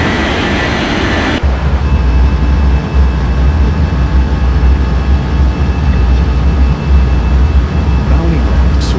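Airliner jet engines on a runway at Bali airport: a steady, heavy low roar that kicks in abruptly after a second and holds loud and close to the end.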